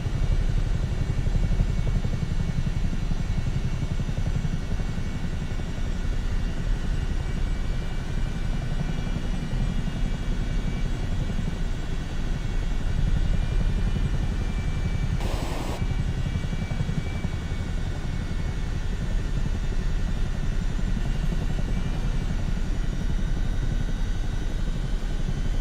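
Continuous loud rotor drone and turbine whine of a Chinook helicopter flying in Microsoft Flight Simulator, steady and close throughout.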